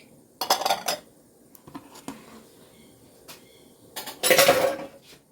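A lid clatters onto a cooking pan in two bursts of metallic rattling, with a few light clinks between them in an otherwise quiet kitchen.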